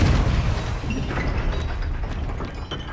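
Confringo blasting spells in the video game Hogwarts Legacy burst in heavy, booming explosions. A loud blast opens and a rumbling, crackling roar continues behind it, with no talking.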